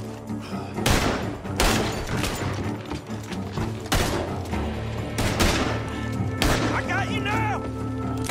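Gunfire in the Red Dead Redemption 2 video game, a series of loud sharp rifle and pistol shots at irregular intervals, with mechanical clicks and thuds between them.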